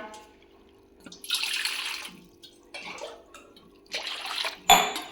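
A dog laps water at home in a village, producing a few short, splashy bursts of drinking separated by quiet pauses, close by and fairly soft.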